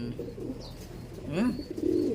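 Low, rounded coos from racing pigeons rise out of a soft background, one or two short bursts in the second half, fairly close.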